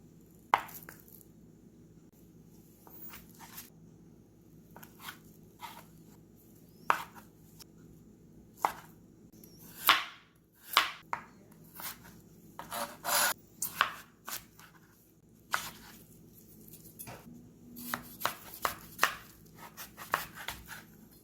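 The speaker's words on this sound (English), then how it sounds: "Now we're going to cut our ingredients as shown." A knife cutting kimbap ingredients such as cucumbers and carrots on a board, sharp irregular chops and slicing strokes, sparse at first then coming in quicker clusters, close against a quiet background.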